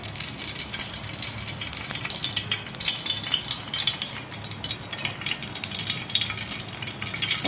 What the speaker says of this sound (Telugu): చూసారా ఆయిల్ అయితే వేడైపోయింది